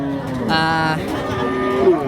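A cow moos at a cattle market where dairy cows and calves are sold, one long, loud, close call that holds steady before easing off, followed by softer lowing and faint market murmur.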